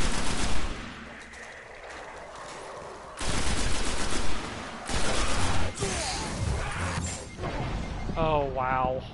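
Rapid bursts of video game gunfire from Destiny, loud automatic volleys broken by pauses, with a player talking over parts of it and electronic effects near the end.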